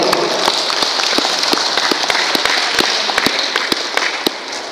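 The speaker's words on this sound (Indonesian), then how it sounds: "Tepuk tangan untuk Al-Farabi sekali" A crowd applauds at an alumni gathering, dense steady clapping close and loud throughout, with sharp individual claps standing out from the wash.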